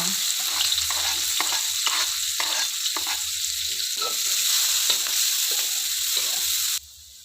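Spice paste for oseng kembang turi fries in a pan, a loud continuous sizzle broken by regular scraping stirs, close up, ending abruptly near the end.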